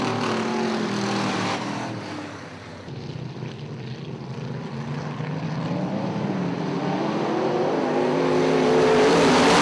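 IMCA modified race cars at Ionia Raceway Park in 2004 give a continuous roar of racing engines that dips briefly, then swells steadily louder as the cars come on the gas.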